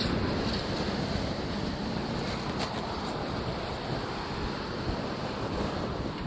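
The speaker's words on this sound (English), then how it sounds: "These long linear streets really catch a lot of wind when the wind's blowing." Wind gusts buffet the microphone while cycling along long straight city streets in Toronto, a steady, loud, close rushing roar that persists throughout with no talking.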